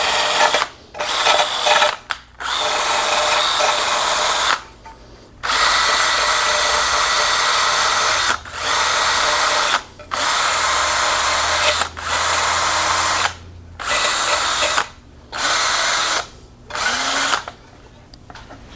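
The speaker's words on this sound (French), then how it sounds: "Je vais mettre une brosse sur ma drill." A power drill spinning a steel wire brush to strip rust from a Honda Accord starter, whirring loudly in repeated bursts of a few seconds each, separated by short pauses.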